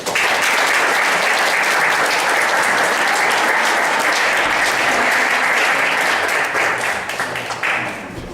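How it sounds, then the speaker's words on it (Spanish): A classroom audience at a renewable energy course bursts into loud, dense applause that holds steady for several seconds before thinning out at the end. "Un aplauso para la profesora de Derecho."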